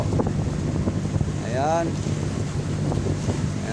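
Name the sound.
typhoon wind at sea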